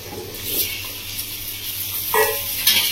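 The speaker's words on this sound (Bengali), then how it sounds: "আমার আলুটা ভালো করে তেল দিয়ে কষিয়ে নেব।" Potatoes cut into long strips sizzle and crackle in hot oil in a pan for a Bengali village-style katla fish curry with raw mango, a close steady fry with a few stirring scrapes.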